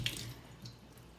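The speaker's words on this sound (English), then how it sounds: "then I'll rinse real quick here" Kitchen sink tap running briefly as something is rinsed, a faint, short splash of water that fades quickly, with no talking.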